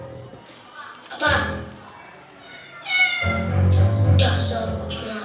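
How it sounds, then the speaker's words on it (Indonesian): A cat meows several times, clear and close, with sharp bright cries in two bursts separated by a quieter pause, other indoor sounds in the background. "Dasar kucing nakal."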